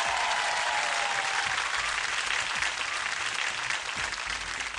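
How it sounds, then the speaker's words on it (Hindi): Sustained, loud applause from the audience at a televised singing competition, an even wash of clapping filling the hall without pause. "जोरदार ताली हो जाए"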